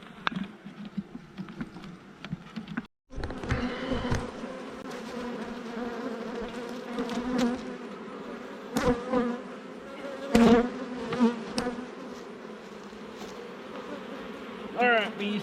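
Honeybees buzzing around an open hive, a dense continuous hum with individual bees flying close by, under intermittent talking and some handling clatter.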